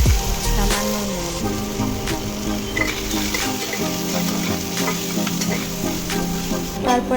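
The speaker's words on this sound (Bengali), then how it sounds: "শুকনো লঙ্কা আর জিরেটা কিছুক্ষণ ভাজা হয়ে গেলে দিয়ে দেবো কেটে রাখা পেঁয়াজটা। পেঁয়াজটা এবার কিছুক্ষণ ভেজে নেব।" Sliced onion frying in oil with dried red chilli and cumin for chana dal, a steady loud sizzle with occasional stirring scrapes throughout, no talking.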